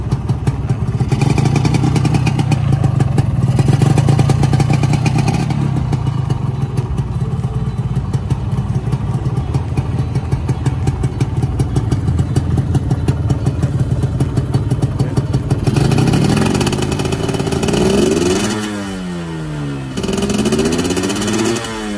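A 2016 Yamaha 125ZR two-stroke motorcycle fires up and runs close by, a loud rapid buzzing idle with a steady rattling pulse, then several sharp revs rising and falling near the end.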